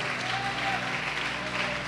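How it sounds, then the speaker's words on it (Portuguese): A church congregation applauding, a dense continuous wash of clapping from a crowd indoors, steady throughout the short stretch with no talking. "Pode aplaudir o Senhor Jesus e glorificar."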